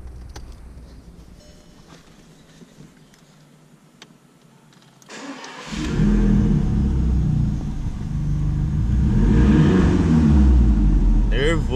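An Audi A1 fitted with a new exhaust sits quietly idling, then its engine is revved hard into a deep, loud, sustained roar that swells further toward the end, close by.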